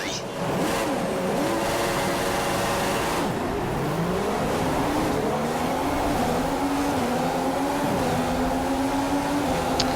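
F1 2015 video game race start at Hungary: a loud, continuous whine of several Formula 1 engines climbing through gears, rising and shifting pitches layered together, with voices under the engine roar.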